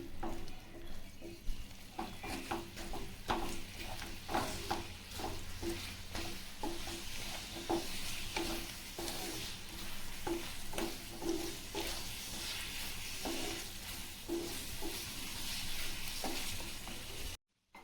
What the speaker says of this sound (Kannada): ಚೆನ್ನಾಗಿ ಫ್ರೈ ಮಾಡ್ಕೊಳ್ಳಿ